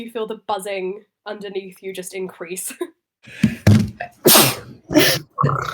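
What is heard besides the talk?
a big sneeze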